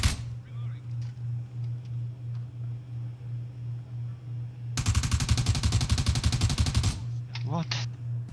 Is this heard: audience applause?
no